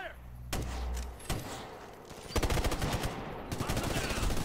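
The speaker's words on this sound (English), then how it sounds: "Taking heavy fire!" Heavy gunfire in Tom Clancy's Ghost Recon: Future Soldier, close bursts of rapid machine-gun shots broken by single loud reports and thuds, with voices calling out during the firefight.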